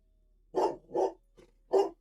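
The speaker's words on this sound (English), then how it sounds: "I don't know if that was a dog barking or what." A dog barks outside at night, three rough barks in an uneven rhythm with a faint yip between the second and third, moderately distant and heard alone.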